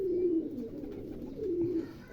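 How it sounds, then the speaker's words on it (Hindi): A Sialkoti pigeon coos up close, two low warbling coos separated by a short pause, with faint rustling in the background and no talk. "ये भी सियालकोटी कबूतर है जी"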